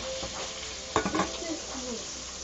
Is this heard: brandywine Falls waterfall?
no